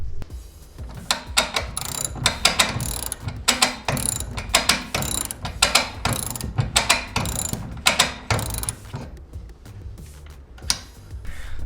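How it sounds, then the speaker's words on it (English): A 5/8 socket wrench ratchets steadily to wind tension into a Torquemaster garage door spring, giving loud, close, rapid clicking bursts in repeated strokes with brief pauses between them. "I simply use the 5/8 socket wrench."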